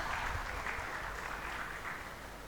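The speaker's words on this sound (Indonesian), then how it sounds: "Tepuk tangan untuk adik-adik sekalian." Sustained crowd applause at a graduation and inauguration ceremony for the 55th class of SMTI Banda Aceh in 2024, a steady wash of clapping that holds evenly throughout.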